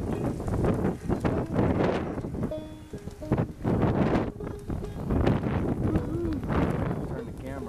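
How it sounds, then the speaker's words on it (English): Blizzard wind gusts straight into a camera microphone outdoors, making a loud, constant, rumbling buffet that surges and dips, with a voice briefly audible beneath it. "Gotta turn the camera away from the wind there."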